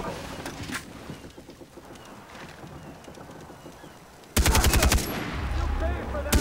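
Enemy gunfire in the video game Far Cry 3: faint scattered shots under ambient game noise, then a sudden loud, rapid burst of automatic fire up close near the end.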